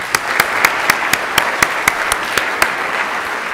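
An audience applauds to welcome Professor Shirk at an evening lecture, with about a dozen sharp, evenly spaced claps standing out above a dense, steady wash of clapping.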